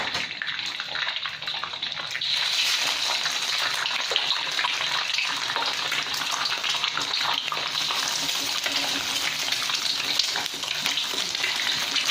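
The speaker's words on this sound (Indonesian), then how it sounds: "Kita goreng dulu telurnya" Eggs frying in a pan for mie goreng give a dense, continuous sizzle and crackle up close, steady and unbroken for the whole stretch with no talk.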